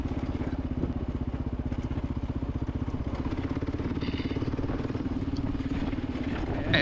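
Kawasaki KLR motorcycle engine cruising at highway speed around 5,000-6,000 RPM, a steady close single-cylinder drone with rapid pulsing throb and wind roar, unbroken throughout.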